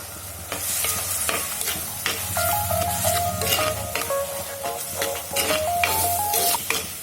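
Dried chili powder and turmeric sautéing in a pan for a fish curry, a steady close sizzle with stirring scrapes, under a light melodic tune.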